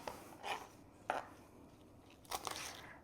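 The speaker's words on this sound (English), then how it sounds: "I've got this romaine that I washed, and I'm just going to chop this up." A knife chops washed romaine lettuce leaves on a cutting board: a few soft, quiet, separate cuts spaced irregularly, with near-silence between them.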